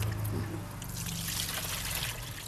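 Water trickles and pours steadily into a cup for washing spinach leaves in a home kitchen, a continuous close splashing stream lasting a few seconds with no talking.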